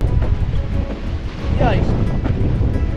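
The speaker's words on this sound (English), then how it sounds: "those waves are crashing against the cliffs" Wind gusts and ocean waves surge in the English Channel near cliffs, heard from a windsurfer's board as a rough rushing roar with buffeting microphone wind; someone speaks briefly midway.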